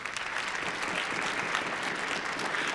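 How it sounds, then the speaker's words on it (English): A full crowd breaks into warm, even applause for the sponsors at the 25th Annual Jewel Awards, a brief steady wash of many hands clapping without any talk. "Let's give them all a round of applause"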